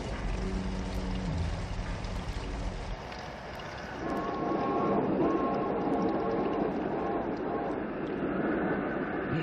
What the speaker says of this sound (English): Hear that whistle out there? That's the Terror Train, the old Spook Limited.